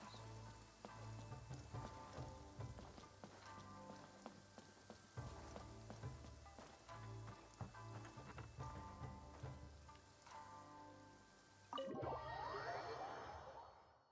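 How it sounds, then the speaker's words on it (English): Downpour in the video game Genshin Impact, Inazuma region: steady hissing rain over a soft musical score, ending in a brighter burst of spattering drops. "Taking a stroll in the middle of a downpour certainly rouses the spirit."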